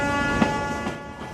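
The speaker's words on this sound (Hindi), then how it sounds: "दूर से आती इस रेलगाड़ी को देखिए" A train approaching from a distance on an Indian railway line, heard as a steady rumbling drone with a sustained horn-like tone running through it and a few soft clacks, no voices.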